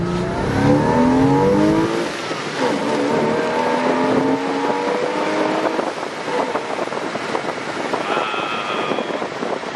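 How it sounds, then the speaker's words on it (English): Exhaust of a Porsche 986 Boxster S at low speed, a steady engine drone with shifting tones and rising revs, close and continuous, with wind rush and no talking. "And then at lower speeds, you hear the exhaust."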